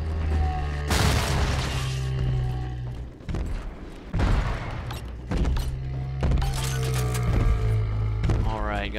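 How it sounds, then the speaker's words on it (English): In Bioshock 2, an RPG turret fires rockets that land as several loud booming explosions with crackling debris, spaced a couple of seconds apart over a steady low game hum, ending in a warbling electronic tone. "Oh, that's a RPG turret."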